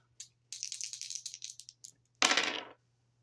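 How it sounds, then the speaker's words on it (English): A few dice rattle and tumble in a quick run of small clicks, then a louder burst of clattering rolls briefly before settling, with a faint steady hum beneath and no speech. "rolling the dice to see what I need to shuffle a deck to."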